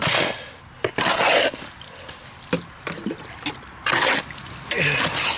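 Rapid set mortar mixed with water during a concrete step repair, with bursts of splashing, pouring and scraping that start and stop in irregular spurts, close and moderately loud, with no one talking.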